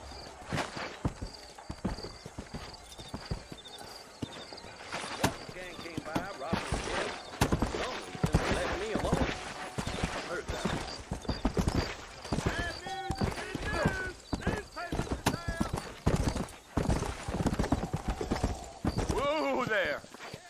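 A horse in Red Dead Redemption gallops with rapid, closely spaced hoofbeats and a possible whinny, set against busy game sound with voices mixed in.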